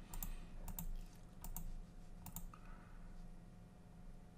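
Computer keyboard keys and a mouse clicking at a desk while text is copied and pasted, with brief bursts of clicks and key presses spaced apart over a steady quiet background, no talking.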